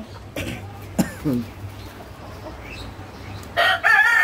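Chickens kept several to a cage on a farm cluck in short bursts, with a louder crow or squawk near the end, all close by against a quiet background.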